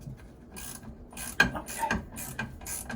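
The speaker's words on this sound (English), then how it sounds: "Let's get to my ratchet here." Ratchet wrench working loose the inducer on an HTP 399 high-efficiency furnace, giving a few close, sharp metallic clicks and ratcheting bursts spaced irregularly over a quiet background.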